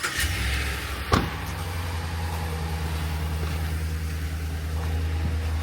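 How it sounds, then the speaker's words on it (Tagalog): A pickup truck's engine turns over with a short sharp start, then settles into a steady low rumble that holds and builds slightly as the vehicle pulls away, close and continuous with no talk. "So, ito yung truck ang aming gagamitin."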